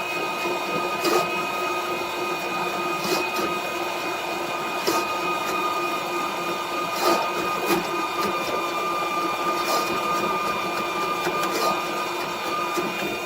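A drain cleaning machine feeds its cable through a French drain outdoors, producing a steady mechanical whir with a faint, regular clicking and rattling pulse throughout.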